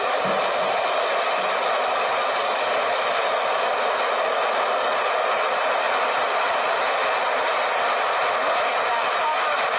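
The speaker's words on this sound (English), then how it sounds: "So the motor just came in nicely." Blue Origin New Shepard rocket motor during landing, a loud continuous roaring rush of broadband noise holding steady throughout, with no break.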